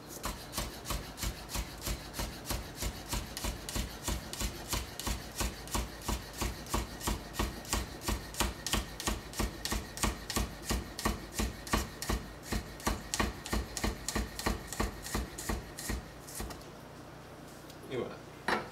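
A knife chops the white part of a leek on a cutting board for a vegetable tart, making steady rapid knocks through most of the stretch before stopping near the end.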